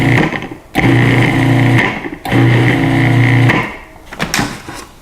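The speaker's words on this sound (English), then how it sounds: "I'm just going to whiz this up to blend it" A food processor whizzes flour, sugar, salt and baking powder in a few loud motor bursts, each about a second and a half long, separated by brief pauses, with no talking.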